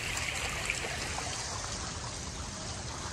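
A fountain pours steadily into a pool, making a faint, continuous splashing trickle with no talk over it.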